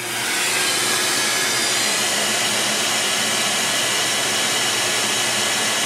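A loud, steady broadband whoosh of a vacuum cleaner motor drawing about 717 watts, running continuously, starting abruptly and holding an even roar throughout with no speech.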